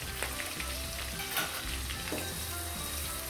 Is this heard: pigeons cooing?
no